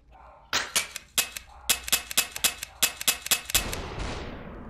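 Gunshots in SUPERHOT VR crack out as a rapid series of about fifteen sharp, loud, close reports with brief gaps, then end in a swelling noisy whoosh.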